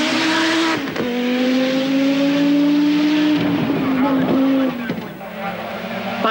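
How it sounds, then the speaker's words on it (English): Audi and Lancia rally cars race a gravel stage at the 1985 1000 Lakes Rally in Jyväskylä, with a loud engine note that holds high, then drops and surges again beneath commentary. "But Toivonen's going faster and faster, almost spinning out at Jyväskylä in his efforts to retrieve his early mistake and stave off Kalle Grundle."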